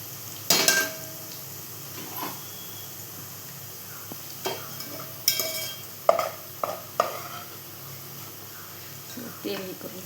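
Fried onions for a tandoori biryani being scooped out of hot oil with a metal spatula into a dish, giving repeated scraping clinks against the pan over a low steady sizzle.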